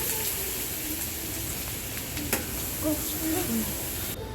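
Ginger paste and curry leaves fry in a pan with a steady soft sizzle and occasional light stirring scrapes, close but quiet.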